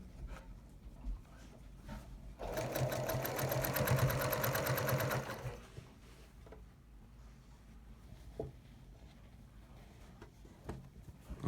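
A quilting machine stitches fabric and thread in a fast, buzzing, rapid needle run of about three seconds. Quieter handling noises come before and after it.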